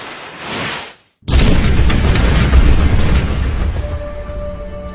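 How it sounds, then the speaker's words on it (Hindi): A sudden heavy cannon boom erupts after a brief silence, its low rumbling roar sustained and slowly fading for several seconds. "तोप के धमाके के बाद"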